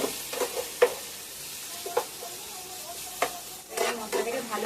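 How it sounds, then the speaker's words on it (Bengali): Spice masala for a soybean curry is stirred and fried in hot oil in a pan. Soft sizzling runs throughout, with occasional scraping strokes of the spoon and no talking. "মশলাটাকে ভালো করে কষতে থাকবে যতক্ষণ না তেল ছাড়ছে মশলা"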